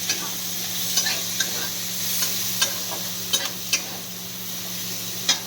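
Onions sizzle in a hot pan for chow mein, a constant bright hiss broken by light clicks and scrapes of stirring, close and alone.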